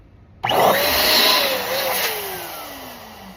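Balloon inflator blowing up 10- or 11-inch balloons for a garland base, a loud motorized whoosh starting abruptly with a falling tone as the balloon fills, then easing off.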